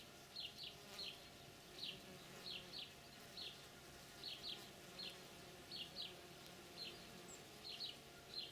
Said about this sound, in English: There's a bumblebee on the asparagus